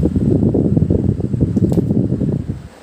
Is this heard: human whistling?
no